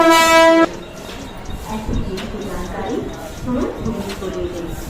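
A train arrives at a crowded railway station on Independence Day, opening with a short, loud, steady horn blast before giving way to busy platform noise and crowd chatter, with people talking throughout.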